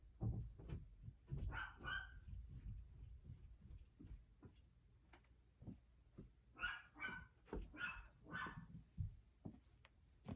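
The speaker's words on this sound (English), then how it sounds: "she's barking at the deer" A female dog barks at deer in a series of short, irregular barks and yips, somewhat distant and faint, mixed with scattered indoor handling noises.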